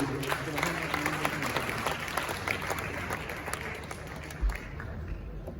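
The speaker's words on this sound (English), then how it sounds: "Shall we, with a big round of applause, welcome the Inspector General of Police, Mr. Tetteh, Yohunu." Applause from an awards audience greets the Inspector General of Police, a steady dense patter of clapping with crowd murmur and voices mixed underneath throughout.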